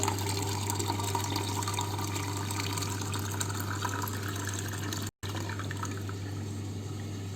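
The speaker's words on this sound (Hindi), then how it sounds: "आपने सिंपल टैप वाटर इस बॉटल के अंदर भर लेना है" Tap water pours steadily into a cut plastic bottle, a continuous close gushing and splashing with a low hum beneath, broken once by a brief cut.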